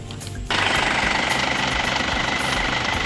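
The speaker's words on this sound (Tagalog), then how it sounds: "So yun guys, start lang natin ng konti yung makina, no?" An Isuzu Crosswind diesel engine cranks briefly, catches after half a second and settles into a steady, rattling, close idle that continues to the end.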